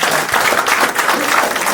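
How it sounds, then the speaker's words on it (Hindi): Brief burst of loud audience applause for a poet at a live Urdu-Hindi shayari show, thick and close, many hands clapping continuously for under two seconds. "एक और ज़ोरदार तालियां वाशु पांडे भैया के लिए"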